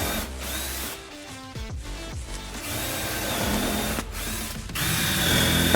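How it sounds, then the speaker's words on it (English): A power drill whirs in bursts, revving and slowing as it drives screws into a workshop wall, with short pauses between runs. "pre-drill some holes, and screw this into the wall"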